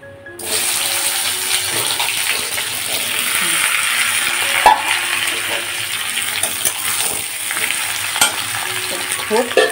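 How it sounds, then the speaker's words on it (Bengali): Chopped vegetables tipped into hot oil in a home kitchen pan burst into a loud, steady sizzle after a brief quiet start, with scraping and clinking from stirring throughout. "এবার কেটে রাখা সবজিটা আস্তে করে দিয়ে দেবো।"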